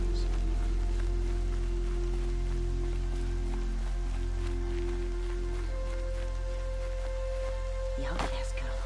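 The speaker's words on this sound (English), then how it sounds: "More rain. My boots will get damp." Rain pours steadily in the video game Horizon Zero Dawn, a dense unbroken hiss over a deep droning ambience, with a single crisp impact near the end.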